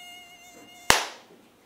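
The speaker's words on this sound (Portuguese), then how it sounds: "O problema é que às vezes aparece um mosquito pra atazanar e acaba com o nosso sossego." A mosquito whines with a thin, steady high-pitched buzz that hangs alone in a quiet room, then a sharp slap-like impact cuts in near the end and fades away.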